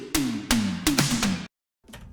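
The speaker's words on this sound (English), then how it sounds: "We need a tom fill for transitioning, and we're gonna add it here." A drum tom fill used as a transition in a synthwave track: a quick run of four resonant tom hits stepping downward in pitch, loud and close, followed by a brief silence and a softer trailing sound.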